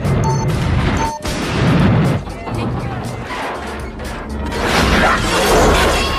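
A bomb bursts in a film scene set around an elevator, giving loud, dense crashing and shattering blasts with debris clatter that swell and fade over several seconds. A narrator's voice runs over the din.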